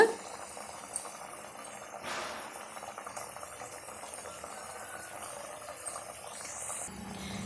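Pieces of biscuit dough fry in hot oil, a faint, steady bubbling hiss that continues evenly throughout, with occasional small pops.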